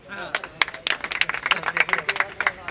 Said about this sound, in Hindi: भैया सन्नी देओल की ताली मार दो